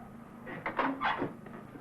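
A damaged door on a tilted, fire-wrecked bus is tried and opened, giving a few short creaks and scrapes close by in a quiet space.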